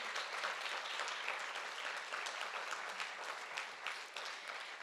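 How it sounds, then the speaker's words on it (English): An audience at a Guru Poornima morning celebration gives musicians a round of applause, a continuous wash of many hands clapping, fairly distant and even in level from start to finish. "Let's please give them a round of applause."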